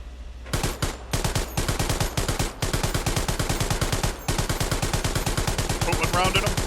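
Sustained machine gun fire in the Hell Let Loose tank combat game, rapid evenly spaced bursts with brief pauses, loud and close, running almost unbroken for several seconds.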